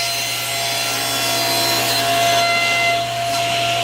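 Steady, loud whine and rasp of a mill cutting a wooden door edge flat, taking off a very thin layer, droning continuously with a constant motor hum and no pauses.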